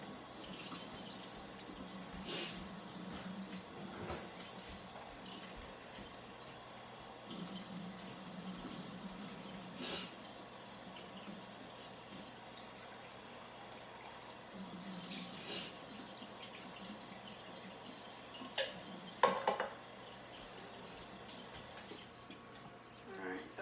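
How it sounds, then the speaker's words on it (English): Faint, steady running water from a tap rinsing drained black beans in a strainer, a soft continuous wash with occasional small clinks, fairly distant and quiet. "I will drain the beans, rinse them off so they can be added to the mix"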